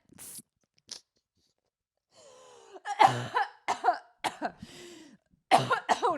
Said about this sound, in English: this episode is gonna be me coughing a lot